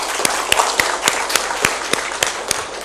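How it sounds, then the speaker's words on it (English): An audience at a Magento developer conference applauds, a steady patter of many hands clapping with a few sharper individual claps standing out, moderately close and with no talk. "let's make them a round of applause"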